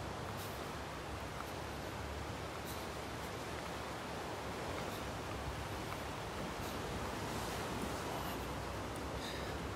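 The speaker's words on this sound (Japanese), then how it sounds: "今日は海が結構荒れてる方ですね" Rough sea waves breaking on the rocky shore of Hatsushima island, a constant broad wash of surf with occasional sharper crashes, heard steadily at moderate distance with no voices.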